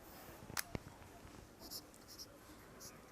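Faint scratching of writing on a board during an English grammar lesson, with a sharp click near the start followed by a few quiet, scattered strokes.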